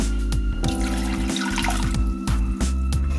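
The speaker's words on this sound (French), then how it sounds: "Je viens rajouter 2 grands verres d'eau." Water poured from large glasses into a pan of tomato sauce in a home kitchen, a steady close splashing flow that runs continuously with small gurgles and clinks.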